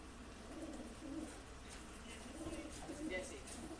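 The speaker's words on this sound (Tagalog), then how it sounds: "Mga 100 ibon to." Pigeons coo softly in a loose, repeating rhythm during a group training of about a hundred birds, faint and close, with low background murmur.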